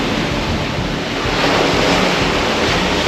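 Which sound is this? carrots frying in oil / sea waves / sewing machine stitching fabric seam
sea waves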